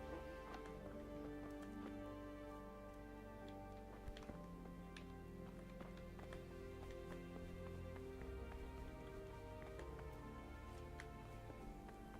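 Horse hooves clip-clop steadily and faintly in the medieval video game Kingdom Come: Deliverance, a soft, even rhythm over a low ambient background with no talking.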